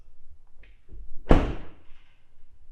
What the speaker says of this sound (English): the doors, again, I go over my full review, but they just have such a nice solid thunk